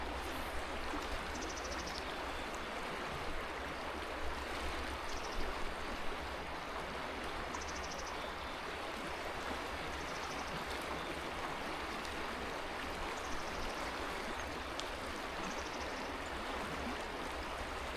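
Water of a trout creek rushing through rapids, a steady broadband wash that stays constant and moderately loud throughout, with no talking.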